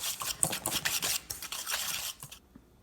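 Sugar, brown sugar and vanilla stirred together in a bowl for hot cocoa, a close, soft scraping and clinking of a utensil for about two seconds, then quiet.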